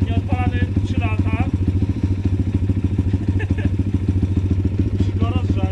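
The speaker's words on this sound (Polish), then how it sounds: "Motor odpalany, nie odpalany 3 lata." A Pitgang 140 pit bike that had not been started in three years runs at a steady idle after starting, a close, constant engine note with clattering over it while people talk nearby.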